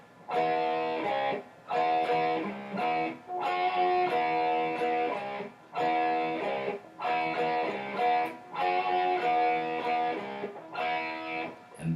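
Distorted electric guitar plays a riff with double-string bends pulling two notes down together; loud repeated phrases with brief gaps between them, played alone with no voices.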